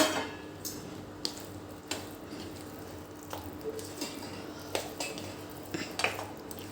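Manchurian balls are mixed in a pan, with a series of light spoon scrapes and clinks of metal on cookware at an irregular pace, faint and close.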